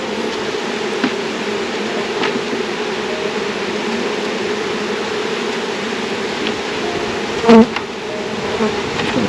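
Honeybees buzz around a hive while a package of bees is installed, a dense steady drone of many insects close by, with one bee zipping loudly past near the end.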